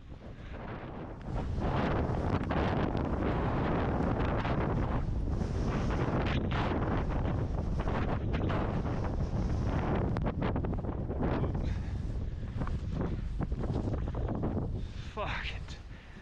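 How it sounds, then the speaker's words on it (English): Strong blizzard wind buffets the microphone near Diamond Peak at Lake Tahoe, a loud, continuous roar with gusty surges throughout, heard alone without talk. "So windy."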